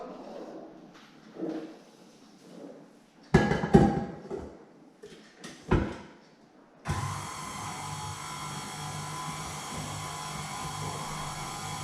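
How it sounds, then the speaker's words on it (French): An electric mixer blending dry boilie bait ingredients with salt in a bowl starts up after a few short bumps and clatters, then runs as a steady, fairly loud whirring hum to the end. "Donc je vais mélanger tout ça."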